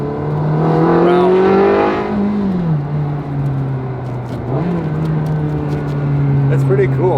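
A car engine revs under way, its pitch climbing and settling in long sweeps with a sharp rise midway, loud and close beneath someone talking over it.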